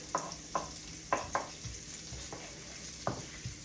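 Garlic sizzles in a stir-fry pan with vegetables and mushrooms, a soft frying hiss broken by a series of light utensil taps and stirring knocks, close and fairly quiet, with no talking.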